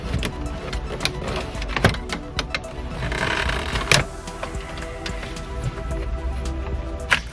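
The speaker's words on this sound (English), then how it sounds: "Next up, it says to unclip and remove the panel that's located right here." Plastic dashboard panel of a Toyota Avalon being unclipped and pulled free, with scattered sharp clicks, snaps and rattling knocks over a steady low hum, close and fairly loud.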